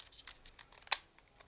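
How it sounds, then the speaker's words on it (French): Light key taps on a smooth Logitech keyboard, a handful of soft clicks close by and quiet, with one sharper keystroke near the middle and no talking. "Oh, le clavier par contre est satisfaisant. Il est hyper lisse. Bah, merci Logitech."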